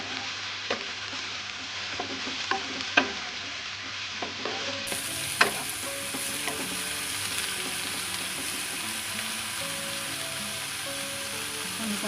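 Sliced luffa (oyong) being stir-fried in a pan for an Indonesian tumis, giving a steady sizzle with scattered scraping clicks of a spatula, close and moderately loud, with no talking.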